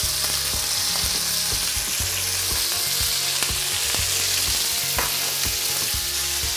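Food sizzles steadily in hot oil in a pan, a dense crackling hiss broken by sharp pops and clinks of stirring, close and alone without voices.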